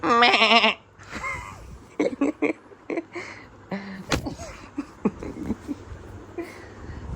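A person mimics a goat, giving a wavering, nasal bleat right at the start, followed by scattered clatter, knocks and soft voices nearby.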